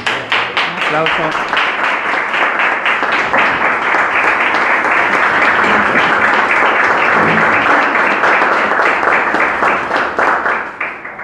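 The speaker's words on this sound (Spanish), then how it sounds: "Aplausos" Audience applause at a ceremony handing ballot boxes to the jury of a flag contest, a long, loud, sustained wave of clapping with voices mixed in, tapering slightly at the end.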